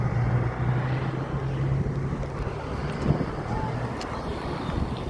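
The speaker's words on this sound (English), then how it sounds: "enjoying the bike." A motorcycle ride outdoors with a dog aboard, steady engine drone under heavy buffeting wind noise on the microphone, continuous and close throughout with no clear talk.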